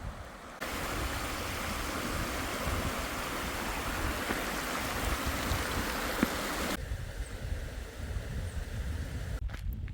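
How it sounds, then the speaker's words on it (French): A small river flows past a stepping-stone ford near Almadén de la Plata, a close, continuous babble of running water that drops away abruptly near the end. "Là, il y a une petite rivière. Faut passer sur ce gué en pas japonais."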